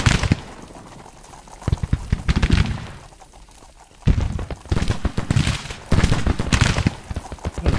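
Skirmishers firing muskets in the Civil War strategy game Grand Tactician: scattered crackling volleys of distant gunfire in irregular bursts, with a brief lull midway before the popping shots resume.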